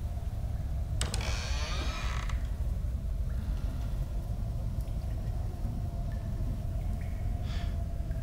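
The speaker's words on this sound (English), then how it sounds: "Hold W to open the door." A door creaks open in The Walking Dead video game: one drawn-out creak about a second long, followed by faint clicks over a constant low background hum.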